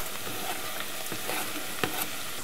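Onions frying in a pan with celery root and celery stalk, a steady close sizzle with a few sharper crackles and pops, no voices.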